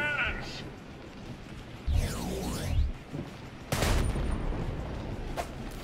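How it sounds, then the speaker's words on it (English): Cannons firing during a castle siege in the video game Sunset Overdrive: a loud booming blast, a sweeping whoosh of projectiles, then another heavy crashing burst, with game effects and voices around them. "Fire the cannons!"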